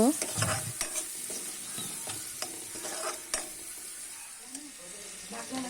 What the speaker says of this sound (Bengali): ভালো করে কষিয়ে নেব নেড়ে চেড়ে কষিয়ে নেব